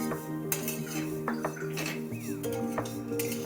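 A spoon stirs vermicelli roasting in ghee in a pan, giving repeated clinks and scrapes against the metal over a steady background hum, with no talking.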